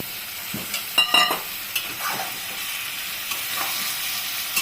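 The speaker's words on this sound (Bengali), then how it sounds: "1/2 চামচের মতো কাশ্মীরি লঙ্কার গুঁড়ো দিয়ে এগুলো একটু নাড়াচাড়া করবো" Spices, turmeric and Kashmiri chili powder, sizzle in hot oil as they are stirred in a pan for a mixed vegetable curry with jackfruit; a steady crackling fry with occasional scraping taps of the spatula, fairly close.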